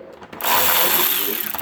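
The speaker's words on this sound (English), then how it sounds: "Get a Milwaukee battery powered ratchet, trust me." Milwaukee cordless battery-powered ratchet spinning a fastener on a pit bike during plastics removal, a loud close whine bursting in after a few faint clicks and holding for over a second.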